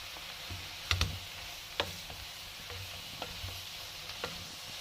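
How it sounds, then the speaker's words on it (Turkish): Shredded red cabbage sautés in a pan as capers and walnuts are stirred in, a soft steady sizzle under sharp knocks and scrapes of a spoon against the pan at irregular intervals, close and quiet, no voices. "Bir yemek kaşığı kapari. Bir çay bardağı ceviz. Tekrardan harmanlıyoruz."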